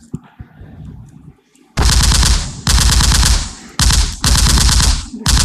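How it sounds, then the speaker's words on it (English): Loud, close rapid machine-gun fire plays as a sound effect for a quiz round, coming in several long sustained bursts separated by brief gaps after a quieter start. "Firing will be there, rapid firing will be there."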